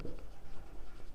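Chalk or marker strokes on a board during a class 12 physics lecture on magnetism, a steady soft scratching texture over about a second, fairly quiet and close, with no talking.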